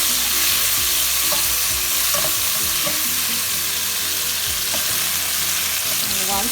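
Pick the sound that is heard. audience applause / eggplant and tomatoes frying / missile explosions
eggplant and tomatoes frying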